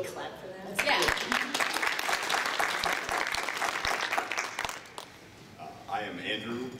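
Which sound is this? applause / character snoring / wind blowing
applause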